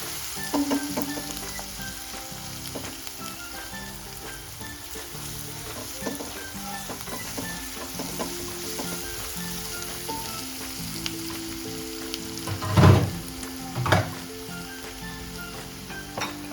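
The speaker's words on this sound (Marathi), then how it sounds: "आता मस्त असा कांदा आपला भाजत आलाय." Chopped onion frying in a pan for Kolhapuri golma, a steady close sizzle with occasional louder stirring scrapes near the end and no talk.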